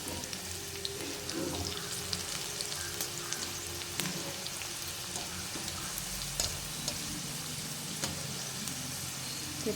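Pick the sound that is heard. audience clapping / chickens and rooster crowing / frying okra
frying okra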